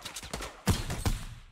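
Shotgun blasts from a shooter video game crack out close and loud, a quick burst of several sharp reports with two heavier booms near the end, no talk.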